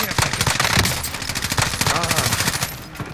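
Rapid, continuous automatic gunfire from Call of Duty: Modern Warfare, the Rebirth Resurgence mode, rattles loudly and without pause, forming a dense barrage of overlapping shots.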